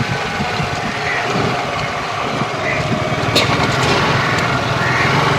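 A scooter engine hums steadily while being ridden, with a light, constant drone and wind rush close to the microphone throughout.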